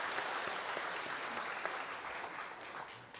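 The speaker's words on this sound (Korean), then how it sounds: "박수 한번 하겠습니다" A church congregation claps in steady, dense applause throughout, loud and even, with only faint voices underneath.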